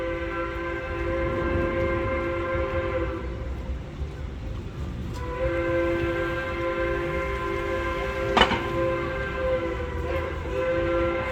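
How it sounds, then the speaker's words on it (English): A steam railroad train in Durango, Colorado, sounds its whistle as long, steady, harmonic blasts that fill most of the clip, with a gap around the middle. A brief knock breaks in later, and a street ambience sits beneath. "You can also hear the steam engine, the railroad train in the background."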